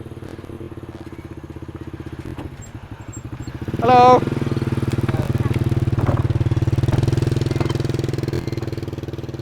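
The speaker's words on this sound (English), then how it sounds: "you can watch this guy crossing the bridge on his moped" A moped's engine putters steadily as it crosses a bridge in rural Hoang Su Phi, Vietnam, a continuous mid-pitched drone close by, with a brief voice calling out a greeting partway through.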